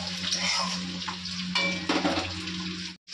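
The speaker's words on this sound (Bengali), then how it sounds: "তো দেখো ডিমটা ভাজতে বসে দিয়েছি" Short burst of oil sizzling as an egg fries in a pan, with spatula scrapes and a steady low hum underneath, cutting off abruptly near the end.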